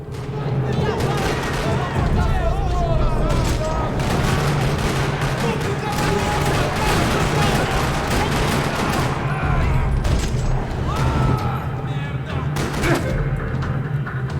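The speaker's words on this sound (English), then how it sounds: "Another parking lot rattling with gunfire." Rapid bursts of gunfire crackle almost nonstop over a loud, dense battle din in a parking lot in the video game Max Payne 3, with voices mixed into the chaos.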